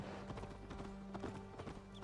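Horse hooves clip-clop in a video game, a quick, irregular run of faint hoofbeats under a soft steady tone, with no talk.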